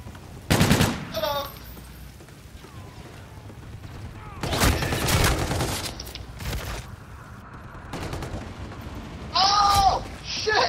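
Bursts of automatic gunfire from the video game Call of Duty: Infinite Warfare come in separate volleys, with an occasional voice between them.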